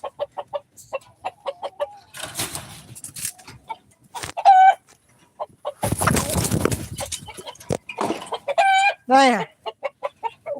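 Hens cluck in short repeated bursts with a rooster among them, along with flapping and scuffling noises; a voice speaks briefly amid the birds.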